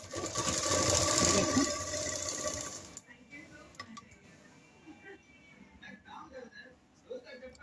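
A sewing machine attaches thin white lace to a baby dress, a loud run of rapid stitching that stops after about three seconds, followed by faint clicks and handling sounds.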